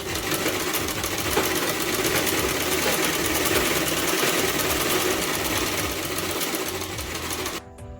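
Sewing machine stitches salwar fabric in a fast, steady mechanical whir with rapid needle clatter, running continuously and close before stopping abruptly near the end.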